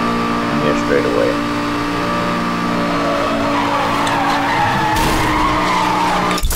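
Tires skid and squeal as a car spins a donut during a police chase in Need for Speed Hot Pursuit Remastered, a loud continuous screech over engine noise, with game sounds and a voice talking throughout.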